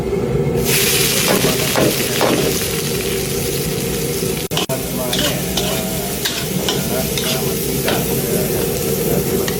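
Garlic, onion and ginger sautéing in oil for pangat na tilapia, a loud continuous sizzle and crackle with repeated stirring scrapes of a spatula close by, no talking.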